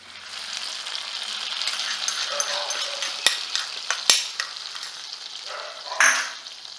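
Ada being stirred into Kerala-style ada payasam in a pan: soft steady bubbling and scraping, with a couple of sharp metallic spoon clicks and a brief louder stir near the end, fairly quiet and without talk.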